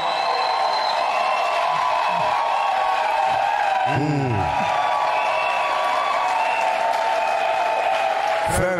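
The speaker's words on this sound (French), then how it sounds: "Applaudissez très fort." A church congregation applauds loudly at an anniversary celebration service, a dense steady wash of clapping filling the whole stretch, with a voice briefly heard over it.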